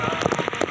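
Steady heavy rain in Karachi patters and hisses on a surface, a dense spray of close droplets with no pauses and no voices.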